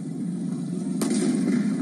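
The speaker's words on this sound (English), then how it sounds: "That was the sound of gunfire. Iran's riot police fired that shot." A single sharp gunshot from riot police in Iran cracks once near the middle, brief and moderately distant, over a low background murmur.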